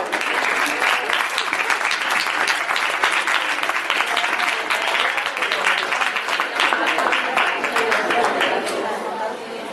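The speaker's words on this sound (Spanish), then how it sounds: "Otro aplauso, porfa, otro." A university audience at a comedy monologue in Valencia claps loudly and steadily, a dense wash of hands with some crowd chatter mixed in, continuous for the whole stretch.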